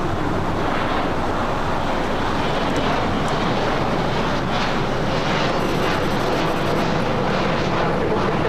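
A cargo airplane passes over LAX on approach from the south, a broad continuous roar with wind buffeting the microphone, steady and fairly loud throughout with no talk.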